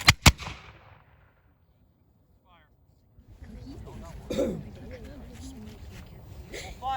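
Reenactors at a Continental Army Valley Forge anniversary event fire a musket volley, two sharp loud cracks right at the start, followed by a quiet pause and then crowd murmur and voices in the background.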